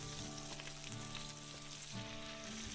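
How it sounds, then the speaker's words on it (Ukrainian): Pork brisket fries in sunflower oil in a pan, a steady, close sizzle with crackling that continues unbroken and faint throughout. "і обсмажуємо нашу грудинку з обох боків помішуючи до золотистої скоринки"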